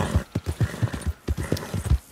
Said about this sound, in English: We're close to Emerald Ranch, so let's get on the horse, Arthur.